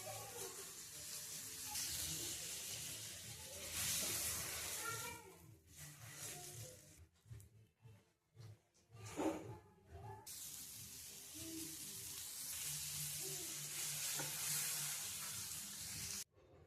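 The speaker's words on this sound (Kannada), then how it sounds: "ನಾನು ಇವಾಗ ಬಟರ್ ಹಾಕ್ತಾ ಇದ್ದೀನಿ. ಹಾಗೆ ಪಾವ್ ಕೂಡ ಹಾಕ್ತಾ ಇದ್ದೀನಿ" Butter and pav bread sizzle on a hot tava while pav bhaji is cooked, a soft continuous hiss that fades out briefly midway with clattering and returns, with a person talking over it.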